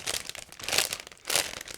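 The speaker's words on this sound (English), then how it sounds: "because it's a resealable plastic bag," A resealable plastic bag from an ICM 1/72 OV-10D+ Bronco model kit being pulled open: close, crisp crinkling in several bursts, with a louder rustle near the end.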